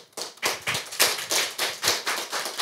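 Applause at a Korean legal research institute seminar: a brisk, evenly spaced run of about ten claps, close and clear, with no voices.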